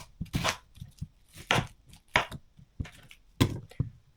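A knife chops onions on a board in uneven quick bursts of sharp cutting strikes, about eight to ten close, crisp chops with short pauses between, no talk.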